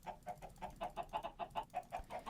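Minecraft chickens from spawn eggs cluck softly in a quick, steady series of short repeated calls, faint and with no talk.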